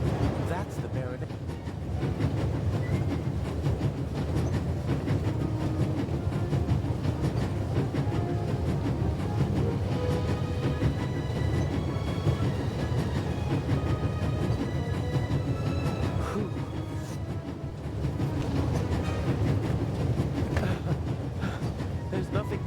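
A video game train travels along its rails with a steady low rumble and rolling clatter that runs throughout, close and continuous, with faint voices underneath.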